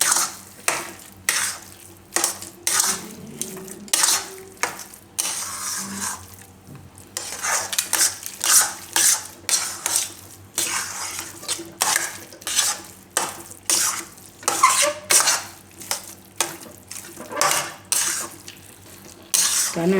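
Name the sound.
stirring jaggery into mixture in a pan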